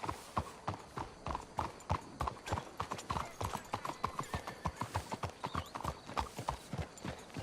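Horses walking in Red Dead Redemption 2, with steady overlapping clip-clop hoofbeats in a brisk, even rhythm that sounds like more than one animal moving close by.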